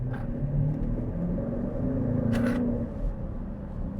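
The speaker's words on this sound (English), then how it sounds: "You can hear what this car sounds like." A 2023 BMW X5 M50i V8 SUV engine rumbles steadily as it accelerates, a deep growling drone with a brief hiss partway through.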